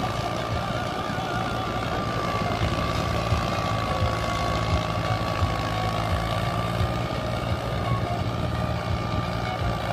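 A Mahindra 265 DI tractor engine drones steadily and strongly while pulling a 3-bottom MB plough through a field, with a constant whine riding over the low rumble.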